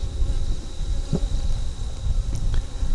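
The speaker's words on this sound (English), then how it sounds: "All the bees are starting to fan their pheromone to say, hey, the queen's in this box," Honey bees fan at the entrance of a swarm trap box after the queen goes in, a close, steady buzzing hum of many wings with a few louder passes near the ear.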